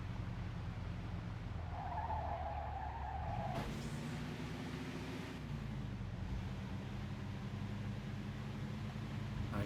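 A car in the video game Mafia II: Definitive Edition brakes late and skids, a steady engine drone joined by a brief squealing tire scrape, then the engine tone shifting as it slows, moderately loud with no talking.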